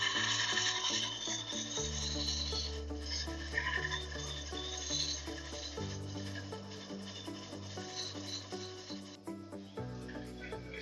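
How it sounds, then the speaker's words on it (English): Sandpaper rubs steadily against a small wooden lidded pot spinning on a woodturning lathe, a continuous close rasp over the machine's hum with no talk. "So we'll sand the inside up to 400 grit, and then we will"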